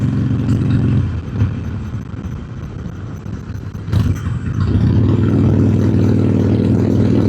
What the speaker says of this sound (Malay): So ni aku saja nak pusing buat motor